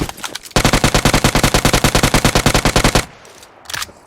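Automatic gunfire in the mobile shooter PUBG Mobile: a loud, close, rapid burst of about twenty-five evenly spaced shots lasting some two and a half seconds, with a few faint sounds before and after.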